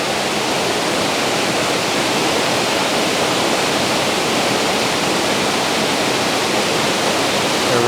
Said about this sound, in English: I like this waterfall because you can get really up close to it